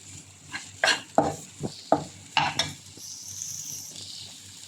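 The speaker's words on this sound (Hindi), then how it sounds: "शिमला मिर्च को डालकर 2 से 3 मिनट भून।" Chopped capsicum and onion are stirred in a pan, with a soft sizzle underneath and a series of sharp, irregular spatula scrapes and clacks against the metal, then a quieter stretch of frying.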